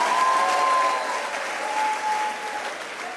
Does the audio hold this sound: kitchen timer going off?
no